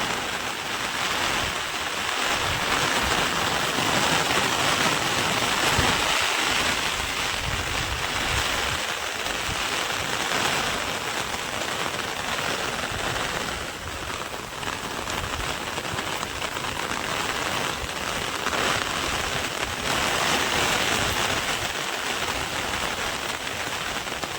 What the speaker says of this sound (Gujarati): જો દોસ્તો વરસાદ જોવો તમે ખાલી બહુ વરસાદ આવ્યો